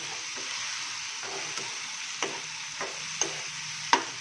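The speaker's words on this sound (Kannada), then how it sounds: "ಗಸಗಸಿ ಈಗ ಗೋಡಂಬಿ ಇಷ್ಟು ಸೇರಿ ಫ್ರೈ ಮಾಡ್ಕೊಳ್ಳೋಣ" Poppy seeds, cashews and a piece of cinnamon fry in oil in a pan, a soft continuous sizzle punctuated by several sharp stirring clicks and taps from a spoon against the pan.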